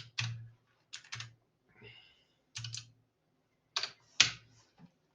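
Typing on a computer keyboard while entering values into an Excel spreadsheet: several short bursts of clicking keystrokes, close and clear, separated by brief pauses.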